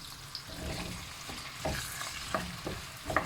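Onions hit hot oil with a knob of melted butter in a pan and sizzle steadily, with stirring clatters and scrapes breaking through at intervals, close and moderately loud.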